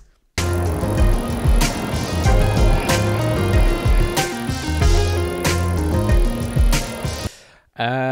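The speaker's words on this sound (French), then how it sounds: "j'aimais le bruit du vélo au début" A bicycle ride rolls along loud and close, with a continuous rushing whir of wheels and drivetrain, broken by sharp periodic clicks and bumps, ending abruptly with a brief different noise.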